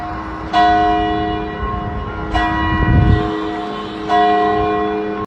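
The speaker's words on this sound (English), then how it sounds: "church bells echoed across campus" Church bells at Villanova University ring out in three loud, resonant strikes a couple of seconds apart, each tone lingering and overlapping the next.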